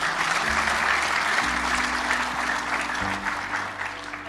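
An audience at a motivational talk claps together in a sustained wash of applause, close and even, with a low steady hum beneath and no clear speech.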